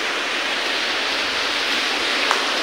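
Rainwater from a tropical storm leaking down from a ceiling, a loud, continuous rushing hiss like heavy pouring water, steady throughout with one faint brief tap near the end.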